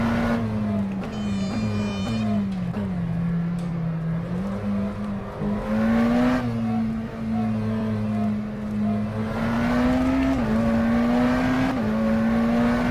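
A McLaren Senna GTR race car in rFactor 2 revs hard through the gears, the engine note rising, dropping on lift-off and climbing again, loud and close with no talk.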